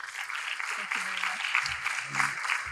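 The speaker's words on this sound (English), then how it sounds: "let's give Advocate Fathima Khan a round of applause" Round of applause for an advocate at a speaking event, a broad steady patter of clapping filling the room, with a few brief voices cutting in over it.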